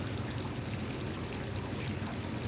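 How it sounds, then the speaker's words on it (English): Nutrient-enriched fish water pouring onto houseplants potted in LECA clay pebbles, a steady close splashing trickle running without pause and without talk. "Just go ahead and water it real well."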